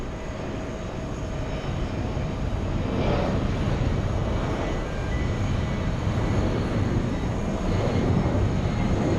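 Airbus A380 jet at JFK Airport on a hot summer day, a steady, heavy engine roar with a deep rumble that holds throughout, fairly loud and distant-to-mid range, with no talking.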